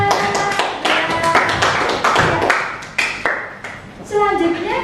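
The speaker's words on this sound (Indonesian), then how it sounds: "Tepuk tangan." A classroom group clapping hands together, a run of sharp, quick claps close by, fairly loud and uneven, with voices speaking over the clapping.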